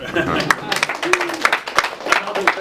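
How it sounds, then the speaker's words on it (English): Attendees at a monthly district meeting clap after a motion passes, a group of hands beating out sharp, uneven claps close by, with voices talking over the applause. "Now you can clap."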